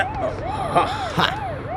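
Police car siren wailing in a steady rising and falling cycle, repeating about every half second, loud and continuous with traffic rumble and short bangs underneath.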